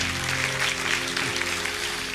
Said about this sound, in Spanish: Dale un fuerte aplauso al Señor, que Él se lo merece.